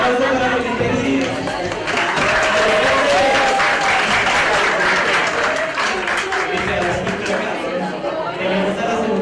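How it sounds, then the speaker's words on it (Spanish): A television journalism panel audience applauds to welcome a guest, dense continuous clapping from a crowd with murmured chatter and a brief voice mixed in, loud and sustained throughout. "Un aplauso para bienvenido"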